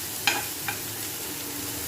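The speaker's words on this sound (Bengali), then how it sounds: "এরপর পেঁয়াজ, রসুন, আদা এগুলো ভাজবো।" Onion, garlic and ginger sizzle steadily in hot oil in a pan, a constant close frying hiss broken by two brief stirring scrapes near the start.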